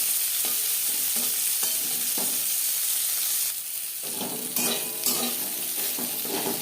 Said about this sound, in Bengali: উচ্ছে লালচে করে ভেজে নেব।